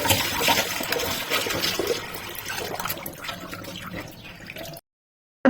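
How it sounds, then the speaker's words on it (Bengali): Pre-heated water poured steadily into a kadai of masoor dal, a close, continuous splashing pour that runs for several seconds before stopping abruptly, no voices. "আগে থেকে গরম করে রাখা পানি কড়াইতে দিয়ে দিতে হবে"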